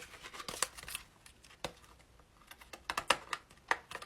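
Scissors cutting an awkwardly shaped piece of material for a homemade Brahms mask, heard as a string of short, close snips and crisp clicks in an uneven rhythm, with no voices.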